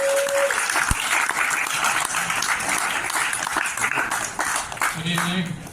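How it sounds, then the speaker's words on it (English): An audience applauding a poet at a poetry and mime event, with steady close clapping throughout and voices talking and calling out over it. "Clap it for him."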